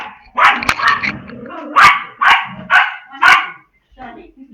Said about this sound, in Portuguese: a minha cachorrinha está latindo